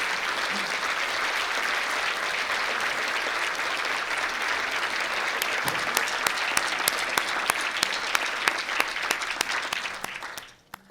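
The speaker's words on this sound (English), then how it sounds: "please stand so we can give you a round of applause" A room of guests at the National Newspaper Awards applauds the judges, dense steady clapping that thins toward the end into a few scattered claps before stopping.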